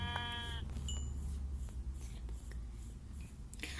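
A sheep in Minecraft bleats once at the start, close and clear, followed by soft rustling and faint background noise.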